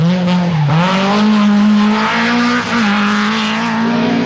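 A Nissan 240 RS rally car, its faulty distributor repaired, drives a special stage of the 1985 Welsh Rally, its engine loud and close, dropping briefly in pitch, then climbing steadily as it accelerates.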